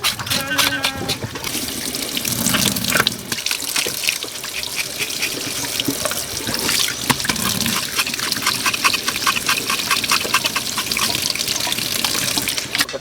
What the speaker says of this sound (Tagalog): Hugasan pa natin yan.